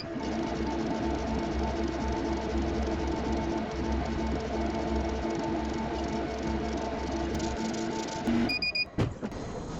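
A laser engraver runs a job with a rotary chuck attachment, humming and whirring steadily and fairly loud throughout, with a few short beeps and clicks near the end.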